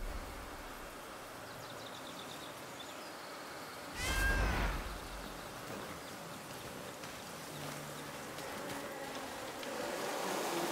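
A cat meows in the video game Blacktail, one short bright call rising out of steady ambient water-like background noise, heard alone without talk.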